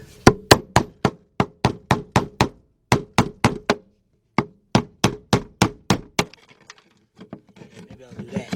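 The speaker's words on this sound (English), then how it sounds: "I got me a little hammer." Sharp, rapid taps from a small hammer strike the metal floor pan of a Ford Mustang in steady bursts, with a brief pause midway, then lighter scraping and tapping at the end.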